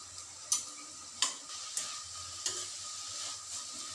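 Grated coconut being stirred into a bread-toast filling in a pan on the stove: a steady sizzle with a few sharp scraping strokes of a spatula about every second, with no talk.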